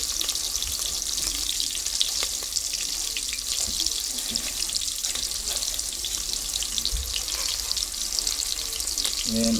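Onions frying in a deep pan, a dense, steady hiss and crackle of sizzling oil that runs continuously at close range, with no talk over it.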